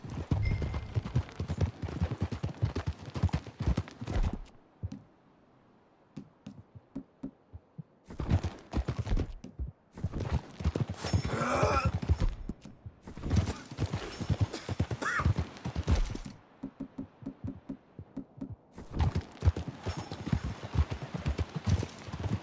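Horses gallop in Red Dead Redemption 2, rhythmic hoof clip-clop in loud bursts separated by short quiet gaps, with a brief whinny and game ambience.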